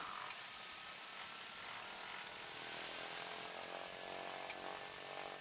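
A Britten Norman Islander's Lycoming engine drones steadily during a ground run-up as the propeller comes back out of feather, a dense broadband roar with a slight swell in pitch partway through and no voices.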